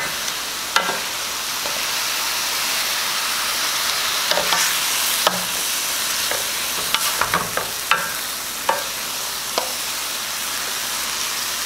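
Pak choy stirred through a tomato base in a hot pan, giving a steady close sizzle broken by scattered scrapes and clacks of the utensil against the pan.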